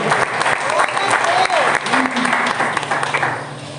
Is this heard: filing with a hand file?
no